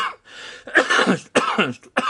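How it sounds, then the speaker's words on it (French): Several harsh coughs come in quick bursts close to the microphone, separated by short pauses. "je tousse encore."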